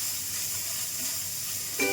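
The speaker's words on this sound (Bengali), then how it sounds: "ফ্রাইং প্যানে অল্প তেল দিয়ে তার মধ্যে একটু নুন ছড়িয়ে দিয়ে আমি পনিরটাকে ভাজতে নিয়ে নিয়েছি" Paneer cubes fry in a little salted oil in a frying pan, giving a steady, close sizzling hiss throughout, with a brief clatter right at the end.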